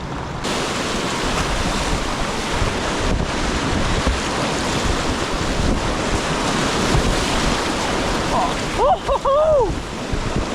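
Whitewater rapids on the Nantahala River, heard from a kayak: a loud, continuous roar of rushing water with heavy wind buffeting the microphone, and a few short squeaky tones near the end.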